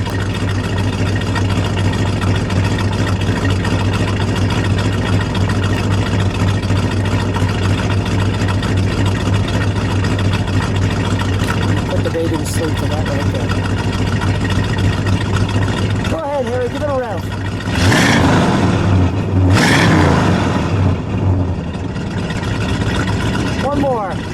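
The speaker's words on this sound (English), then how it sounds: "Let me get a little exhaust at the idle." A 1970 Plymouth GTX V8 muscle car with a 440 engine idles steadily with a deep low rumble throughout, while someone talks nearby and a brief louder exhaust burst comes near the end.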